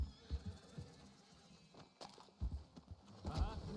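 Horse hooves clopping at an uneven walking pace in Red Dead Redemption 2, fairly faint, with soft shuffling between the steps.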